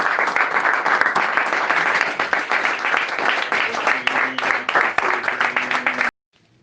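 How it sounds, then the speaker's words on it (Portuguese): A church congregation applauds in a sustained burst of dense clapping for about six seconds, fairly loud and close, with voices mixed in beneath, before it cuts off abruptly. "Um aplauso para Jesus."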